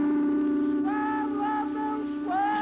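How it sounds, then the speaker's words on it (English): A vendor's street cry for silk sounds as a steady sustained drone with rising, wavering melodic calls above it, repeated three times. "It's the cry of a silk vendor."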